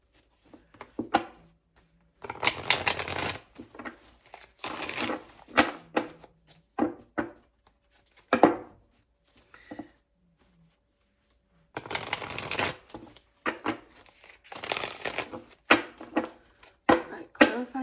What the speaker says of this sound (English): what is going on with the shuffling today?